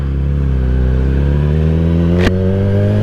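A 2021 Kawasaki ZX-10R sport motorcycle pulling away, its engine droning steadily and rising in pitch, loud and close, with one brief click partway through.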